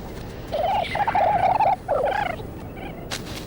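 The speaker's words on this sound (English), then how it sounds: "Now here we have a bird which burrows." A burrowing bird descended from galliform birds, in a cold desert, gives a run of rapid, throaty gobbling calls, loud and close, in bursts separated by short pauses.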